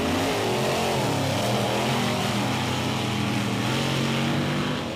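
A 10,000-pound monster truck launches off the start line on a sand beach at a drag race, its engine roaring loud and steady with a heavy low growl throughout, no talk over it.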